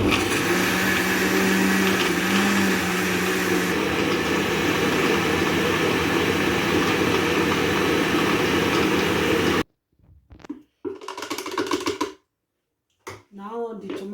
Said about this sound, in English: So now I'm going to blend it.